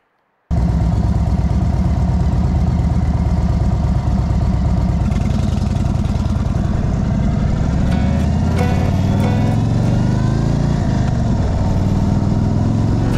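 A motorcycle engine idles steadily and close by, a continuous low mechanical rumble with a fairly constant tone throughout and no speech, just before setting off on a ride.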